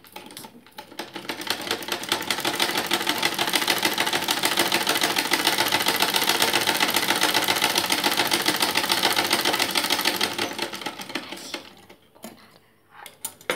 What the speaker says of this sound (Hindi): अब देखिए हम इस आपको सिलाई करके दिखाते हैं।